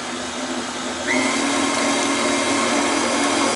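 An electric mixer beats pizzelle batter after the extracts and flavorings go in. It starts as a steady whir, then rises to a louder, constant hum about a second in and keeps running close up, with no talking.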